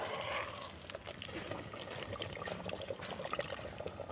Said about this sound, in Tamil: தேவைக்கேற்ற தண்ணி